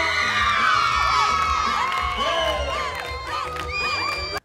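A large crowd of children and adults sings along with young performers at an amateur singing show, loud voices blending into a lively chorus with a few whoops before it cuts off abruptly.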